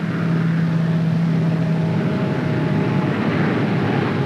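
A single running engine on an A-26 Invader aircraft during a single-engine go-around, giving a steady, loud, close drone with a low hum and a faint whine above it, with no voices.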